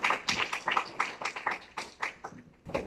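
A church congregation standing and clapping for God after a sermon in Guadalajara, a fairly close spread of irregular hand claps with bursts that rise and fall over a few seconds.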